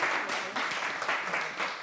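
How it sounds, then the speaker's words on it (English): Brief audience applause at a weekly gathering, a steady patter of many hands clapping at moderate distance, fairly soft and without talk over it. "Let's give them a round of applause."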